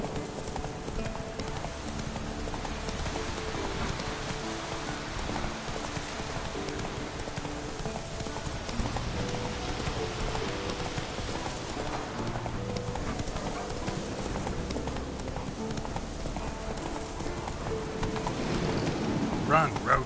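Roach the horse gallops in a PS4 video game, hooves clip-clopping in a fast, steady rhythm, with rain falling throughout.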